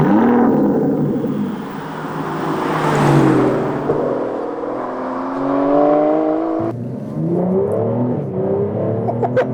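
A 2014-onward Aston Martin Vanquish engine starts up close and loud, then revs in rising and falling sweeps before settling into a steady idle.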